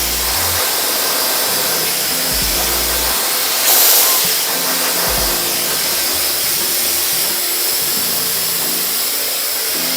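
Hair dryer blowing steadily at close range while styling hair with a rolling brush, a loud constant whooshing hiss with a short surge partway through.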